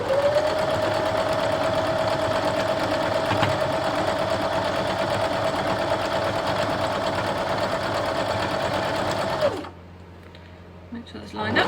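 A sewing machine stitches a quilt border strip, running steadily at a constant speed for about nine and a half seconds before stopping, close and fairly loud, followed by brief quiet room sound.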